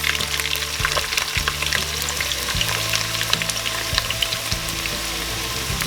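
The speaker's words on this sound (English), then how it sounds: "make sure that your oil is hot, and then you just go ahead and put in your onions" Onions fry in hot oil, a loud, close, crackling sizzle with a steady hiss and scattered sharp pops, plus a few low clunks of a pan or utensil underneath, and no talking.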